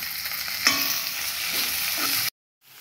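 Green chili, ginger, garlic and curry leaves sauté in oil for Kerala-style pork curry, giving a continuous close sizzle with a few stirring scrapes before it cuts out abruptly.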